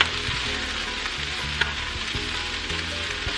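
Lo mein noodles, shrimp and chicken stir-fry sizzle steadily in a hot pan as they are tossed, with continuous frying hiss and a few soft clanks of utensil against pan.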